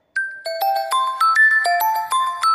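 A phone ringtone from a song plays as a bright, synthetic melody of stepped chime-like tones in a steady repeating pattern, loud and clear with no voices over it.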